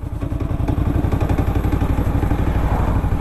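A 2018 Indian Scout Bobber motorcycle pulls away from a stop in sixth gear, its engine chugging in a steady low, lugging rhythm close to the microphone, with slight mechanical clatter and no talking.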